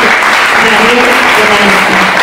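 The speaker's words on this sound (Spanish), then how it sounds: "Fuerte el aplauso para ella" Loud audience clapping at a ranchera music event greets a singer, a thick continuous roar of hands close up, with a faint tonal hum running underneath.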